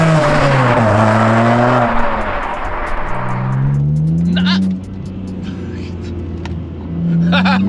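A supercharged 570bhp BMW E46 M3 driven hard, its loud engine revving up and shifting through gears close by, with brief tyre noise and a voice speaking over the engine.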